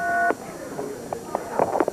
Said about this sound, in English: he's trying to get the goose, Jerry Lawler, on the phone